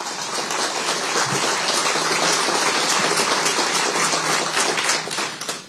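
Sustained audience applause at a press conference introducing coach Christian Ostrander, steady dense clapping filling the room for several seconds before tapering off at the end.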